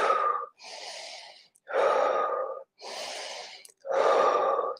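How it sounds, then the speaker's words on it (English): Deep, audible breathing during a low-impact leg and glute workout: five slow, alternating inhales and exhales, each about a second long, close and clear, with no talk. "Breathing deeply."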